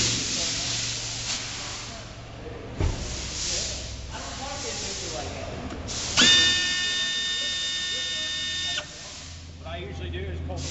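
A pneumatic air tool works a 10mm nut on a fuel tank during a filter replacement, giving a steady hissing, high whine for a few seconds, with someone talking around it.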